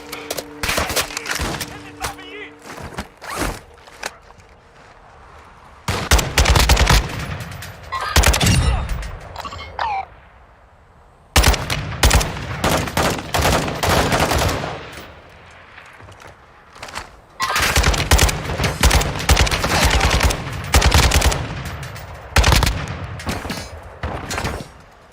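Heavy bursts of automatic gunfire from the Call of Duty DMZ video game, loud and close, coming in repeated volleys with brief gaps between them.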